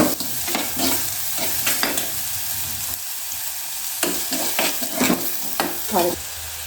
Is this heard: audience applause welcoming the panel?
no